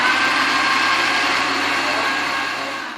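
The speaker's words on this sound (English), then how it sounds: "so I'm just gonna go ahead and just blend" A blender whirs loudly and steadily for a few seconds, then begins to wind down at the end.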